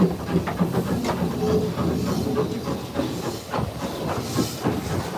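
A steam locomotive on the Isle of Wight Steam Railway chuffs and hisses in steady rhythmic puffs, heard from the cab, with faint clanking of train cars as it pulls away from Wootton station.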